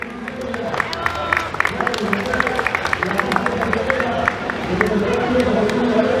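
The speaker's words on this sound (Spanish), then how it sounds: "vamos a tributarle fuertísimo voto de aplauso, señoras y señores" Crowd applause at a baptism with scattered claps and cheering, steady throughout, mixed with background murmur.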